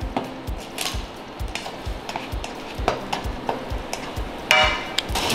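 Fried rice sizzling and crackling in a hot frying pan after oil is added around the edges, with rhythmic scraping and stirring strokes of a utensil, close up, no voices.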